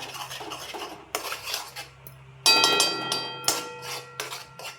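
A metal spoon scrapes and knocks against a pan while mango paste is stirred and cooked, with sharp irregular clanks and scrapes close up, alone without talk.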